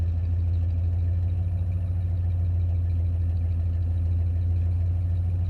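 A car drives through the streets of St John's, Newfoundland, along Duckworth Street, its engine a steady low hum with road rumble heard from inside the vehicle, constant and unbroken.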